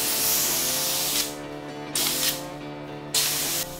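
A spray gun painting a 4x4 car hisses loudly in several bursts, with brief gaps between passes, close by and with no talking.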